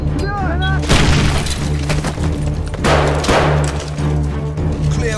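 Frag grenade blast in Call of Duty Modern Warfare 3 amid combat, with sharp booming impacts and crackling debris bursts repeating over a few seconds, mixed with gunfire and a background voice.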